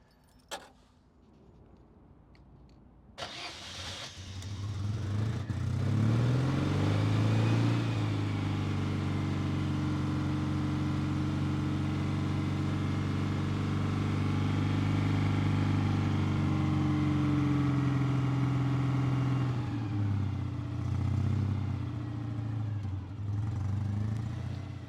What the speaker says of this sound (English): Okay, so it starts up right away, And I'll just sort of let it settle here